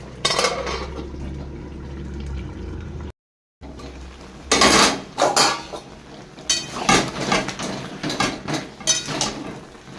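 A cooking pot's lid and utensils clatter as mango chutney cooks, with a low bubbling hum early, a brief silent gap, then a series of sharp metallic clinks and scrapes in uneven bursts.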